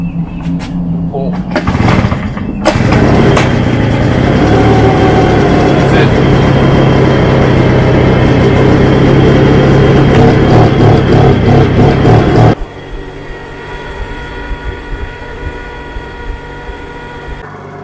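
A Tomahawk TMD14 mosquito fogger's small engine catches after a pull and runs loud and steady for about ten seconds, then drops abruptly to a quieter, thinner running sound.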